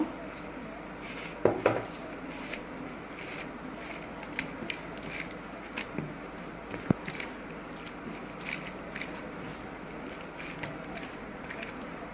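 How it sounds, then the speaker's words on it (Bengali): Dried chillies are crushed by hand in a bowl, giving soft, scattered crunching and crackling with a few sharper clicks against the bowl. The sound is faint and close, with no talking. "শুকনো মরিচগুলা আমি এইভাবে গুঁড়া করে নিব।"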